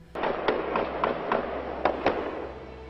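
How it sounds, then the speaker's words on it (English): A burst of gunfire, about seven sharp cracks in quick, uneven succession, loud and echoing over a steady background rumble. "Gunfire erupting as a gunman waiting and hiding picks off police officers"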